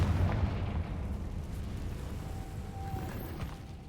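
Confringo fire spell explosion in a Harry Potter video game: one deep, rumbling blast that rolls on and slowly fades, with no voices over it.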